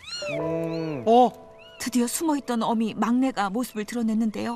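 Young kittens meowing and crying, high-pitched drawn-out mews repeated in quick succession, with a narrator speaking over them.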